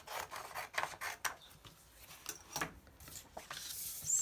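Paper being trimmed for a craft journal cover, with soft close rasping and rubbing strokes in a quiet, uneven rhythm and a few sharper snips, no voices.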